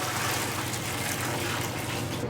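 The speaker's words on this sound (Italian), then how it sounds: "5 kg d'acqua, le versiamo nell'impastatrice" Five kilograms of water pour steadily into a dough mixer for a Neapolitan pizza biga, a loud, even rushing wash that holds constant from start to finish.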